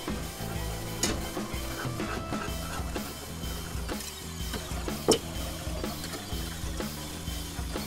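Whisk scrapes and clinks quickly and continuously against a saucepan as pastry cream thickens over heat, a close rhythmic rattle with one sharper knock partway through and no talking.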